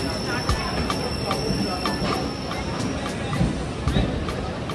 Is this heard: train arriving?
yes